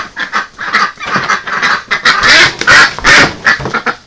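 Loud, harsh duck quacks repeat in quick bursts, close by, with the calls growing more insistent toward the end.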